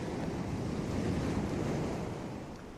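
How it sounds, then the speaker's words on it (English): Sea waves surge and wash steadily against a shore, a broad continuous roar with wind noise mixed in, sustained and fairly loud throughout with no voices. "Listen to the sea."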